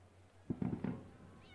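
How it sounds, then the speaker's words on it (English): A cat gives a short series of faint meows, about three quick calls in a row, against a quiet indoor background. "There is a cat somewhere."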